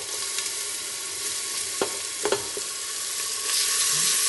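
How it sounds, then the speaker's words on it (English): Ginger and garlic sizzle in hot oil with cumin in a pan, a steady crackling fry broken by a few soft stirring scrapes and taps, close and alone. "We'll go ahead and we'll put our ginger and our garlic in there."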